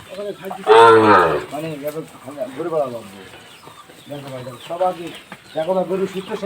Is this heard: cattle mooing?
yes